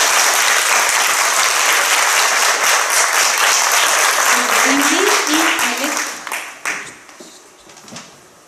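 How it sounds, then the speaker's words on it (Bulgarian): Dense audience applause from a concert crowd fills most of the clip, loud and sustained, then thins to scattered claps and fades out near the end. "заслужени аплодисменти"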